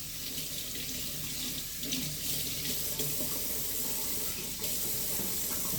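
Kitchen tap water runs steadily into a sink while shaved deli turkey slices are rinsed, a continuous close splashing hiss with no talk.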